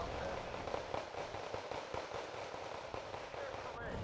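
BM-24 rocket artillery barrage in a video game: a rapid, dense crackle of distant explosions and pops rolling on continuously at moderate volume, with a voice talking over it.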